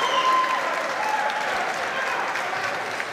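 A crowd at a squash match in the Tournament of Champions applauds steadily, a dense and even wash of clapping that fills the whole stretch without letting up.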